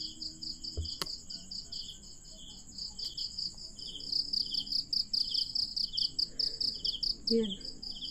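Crickets chirp at night outdoors, a dense steady high trilling pulse that grows louder partway through, with a couple of faint sharp clicks and a brief low noise near the end, no voices.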